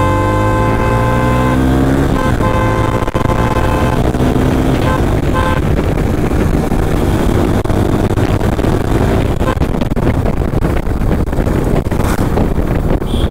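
A modified Suzuki Gixxer SF motorcycle rides along with its engine droning loud and close, rising in pitch as it speeds up, under heavy wind rush on the microphone.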